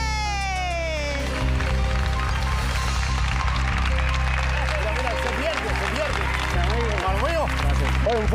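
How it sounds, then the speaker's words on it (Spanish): Studio audience applause on a Latin TV talk show greets guest Andy Vázquez, mixed with loud music, a sweeping sound effect and the host talking over the clapping. "un fuerte aplauso"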